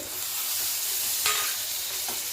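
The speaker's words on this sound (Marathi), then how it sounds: "हे पण छान असं नरम होईपर्यंत आपल्याला हे भाजून घ्यायचे" Finely chopped tomatoes fry in an onion-chilli paste in a pan, giving a steady close sizzle with occasional stirring scrapes and no voices.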